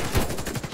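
A quick burst of gunfire from the online shooter Warface, with a few rapid, punchy shots close and loud in under a second.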